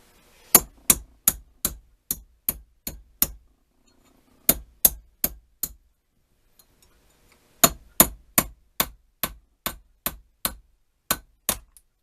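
A hammer pounds on a small wooden oar for an automaton rower, sharp close blows in three steady runs of about seven to eight strikes each, separated by brief pauses.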